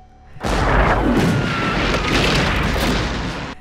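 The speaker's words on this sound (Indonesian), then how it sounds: "Dari kejauhan, pasukan selatan terus mengirimkan bom meriam" Cannon fire at the 1862 Battle of Antietam: a sustained, heavy barrage of deep booming rumble that swells suddenly and rolls on almost continuously, with overlapping blasts blurred by distance.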